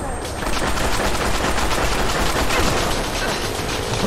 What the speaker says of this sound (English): Is that me getting shot at?